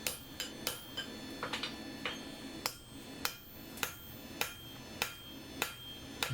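Hammer forging the head of a nail on an anvil, a series of sharp metallic strikes at a steady, unhurried rhythm with a few quicker lighter taps between, fairly faint and with no talk.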